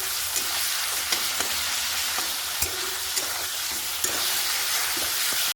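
Chopped onion, green chili and garlic fry in hot oil with a constant, close sizzle, and light scraping clicks come from a spatula stirring in the pan.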